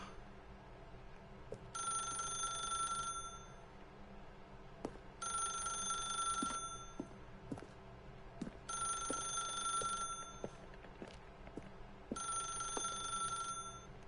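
A telephone rings inside the video game The Stanley Parable, four separate bursts of a bright electronic ring with quiet gaps between them, clear and fairly close against faint background hum.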